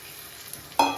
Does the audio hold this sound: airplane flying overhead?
no